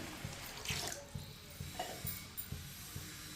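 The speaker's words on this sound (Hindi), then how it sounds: "1 गिलास पानी और डालेंगे।" A glass of water is poured into cooking masoor lentils in a kitchen pot, a faint, steady splashing stream with soft regular knocks, heard alone.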